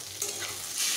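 Vegetables with freshly added tomato fry in a pan, giving a steady soft sizzle with a brief stir around the start and a brighter hiss near the end, without any talking.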